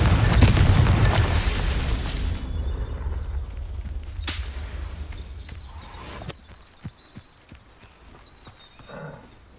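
A Confringo spell explodes in Hogwarts Legacy with a loud, rumbling boom that fades over a couple of seconds, followed by sharp cracks and scattered lighter impact sounds.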